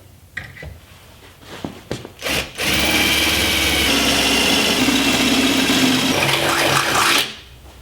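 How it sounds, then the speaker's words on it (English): A power drill with a bit just over a quarter inch bores holes for JCR Offroad quarter panel armor on a vehicle, a few short clicks and starts, then one loud sustained whine lasting several seconds before stopping. "go ahead and drill the rest of the holes"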